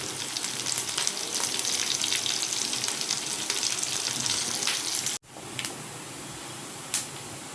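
Onions and curry leaves frying in oil for a tempering, with dried red chillies and garlic in the pan, a steady close sizzle that briefly cuts out, then resumes softer with a faint clink.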